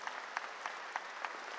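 Church congregation applauding during a sermon, a faint, steady patter of many hands with soft, evenly spaced accents that fall into a loose rhythm.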